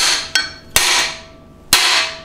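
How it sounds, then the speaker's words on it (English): Three hard metallic hammer blows strike a stuck motorcycle swingarm bearing bolt, each sharp, loud and close with a ringing decay, spaced irregularly and without speech. "This thing is kind of stuck, so I'm gonna hit it really hard and see what happens."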